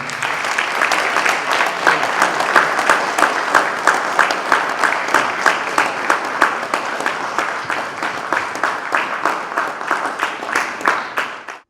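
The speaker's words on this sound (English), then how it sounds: "please, a round of applause" Applause from an audience at a property development talk on estate surveying and valuation, a dense steady wash of many hands clapping for about twelve seconds before thinning and stopping.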